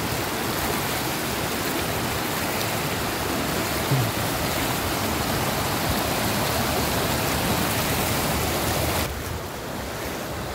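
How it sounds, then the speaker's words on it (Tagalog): A flooding river rushes hard past a village crossing in Sipocot, Camarines Sur, a loud, constant roar of water with wind noise and no voices. "Tingnan mo naman yung lakas ng agos eh."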